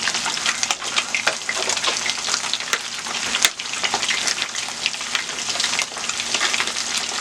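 Fish fries loudly in a pan on a stovetop with a dense, continuous crackling sizzle and scattered pops throughout, close and without speech.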